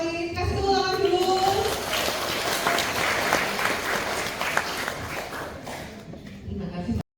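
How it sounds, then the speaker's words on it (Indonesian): An audience applauds at a university student orientation event held in a hotel hall in Semarang. A voice speaks briefly at the start, then loud, dense clapping fills several seconds before stopping abruptly. "Kasih tepuk tangan dulu."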